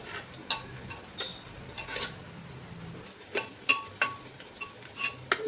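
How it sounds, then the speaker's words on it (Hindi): Onions frying in a pan for pulao are stirred with a metal utensil. A soft sizzle runs under sharp clinks and scrapes, which come faster and closer together near the end. No voices are heard. "प्याज जो है भुनने लगी है।"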